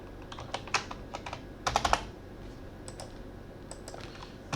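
Typing on a computer keyboard, irregular bursts of light clicking keystrokes with a quick flurry near the middle, close and fairly quiet with no talk.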